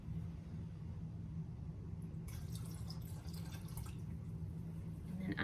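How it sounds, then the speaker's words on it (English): Mixed fabric dye is poured into a dye bath for upcycling old clothes, a soft watery trickle and dribble rising after a quiet start over a steady low hum, close and fairly faint. "now we're gonna add this to our dye bath"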